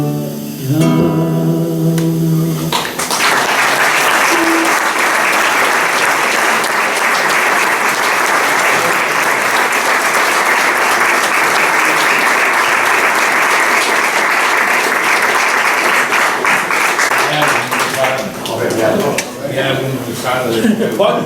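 An audience breaks into loud, sustained applause after a song at a vermouth gathering at Marginàlia, a dense steady clapping that follows the last sung notes and lasts nearly twenty seconds before tapering.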